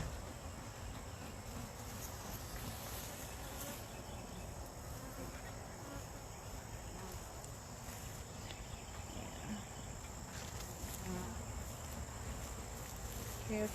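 Honey bees swarm around a hive in a steady, dense buzzing drone that holds evenly throughout, close and continuous with no talking.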